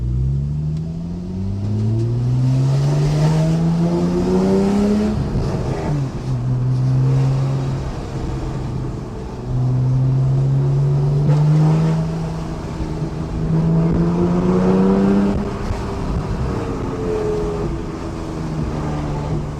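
A loud Porsche 911 (991.1 Carrera) engine with an Akrapovic titanium slip-on exhaust rumbles and revs up and down through gear changes while driving through a town, the exhaust close and throaty throughout.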